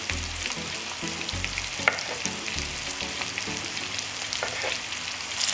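Red pepper and onion frying in a pan, a steady loud sizzle and crackle with faint intermittent scrapes and stirring clicks, no voices.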